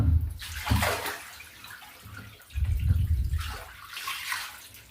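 Cold water poured and sloshed over clothes being rinsed by hand, a splashing rush with low gurgling that swells and eases twice, fairly quiet and close.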